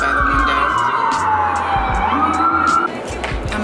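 Emergency vehicle sirens wail outside a window, a loud rising and falling tone sweeping over city traffic rumble before easing off near the end.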